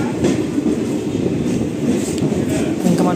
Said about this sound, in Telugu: సామర్లకోట జంక్షన్లో కూడా స్టార్ట్ అయిపోయింది ట్రైన్ అది